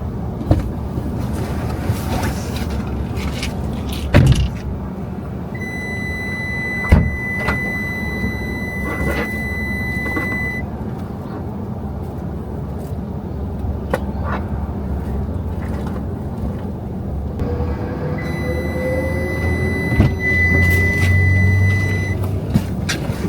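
A noisy car produces a steady rumbling drone with a few sharp knocks and rattles, and a thin whine drifts in and out over the engine hum.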